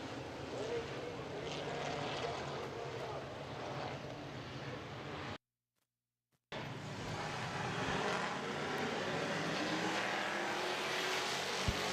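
Race cars pulling away at the start of a heat race, a dense roar of engines with crowd and track ambience and an announcer talking over it, briefly cut out midway before the roar returns.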